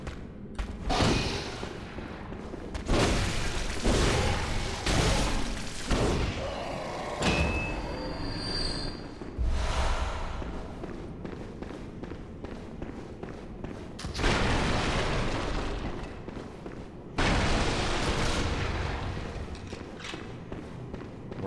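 An enemy fires at the player in Bloodborne, giving repeated heavy thuds and booming shots amid dense game noise, spaced irregularly across the stretch.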